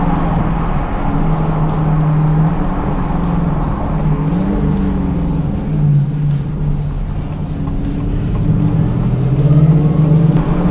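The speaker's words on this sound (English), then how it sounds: "The exhaust sounds good. Downshift for this. Oh, what's that? Is that some supercharger whine?" A 2023 Dodge Challenger SRT Hellcat Jailbreak with a 717 hp supercharged engine, heard from inside as its exhaust rumbles steadily through a downshift and rising revs, with a faint supercharger whine riding on top.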